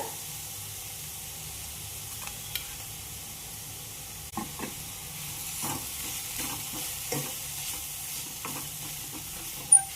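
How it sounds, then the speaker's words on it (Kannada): Grated raw mango and ground masala being stir-fried in a pan for mango chitranna, a steady low sizzle with scattered scraping stirs of the spatula throughout, close and moderately quiet, with no talking. "ಮಸಾಲೆ ಹಾಕಿ ಎಲ್ಲ ಒಮ್ಮೆ ಚಲೋದಂಗ ತಿರ್ವ್ಯಾಡ್ರಿ"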